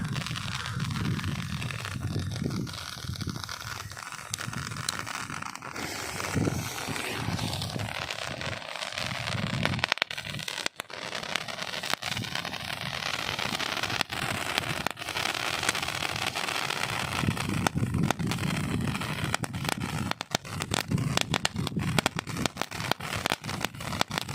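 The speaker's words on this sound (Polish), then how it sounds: "Fontanna to jest J, JF40 od Jorga." Firework fountain JF40 from Jorge burning outdoors in the evening, a continuous loud hissing spray with dense crackling pops throughout, steady and close.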